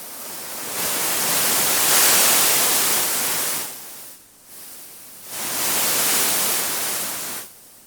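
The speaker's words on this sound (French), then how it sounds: "je t'ai fait quelques vagues au niveau de l'air avec cet Infinity" Air hisses from a Harder & Steenbeck Infinity airbrush as its progressive trigger is pressed, two long swelling bursts of broadband hiss with a short dip between, close and steady, then fading.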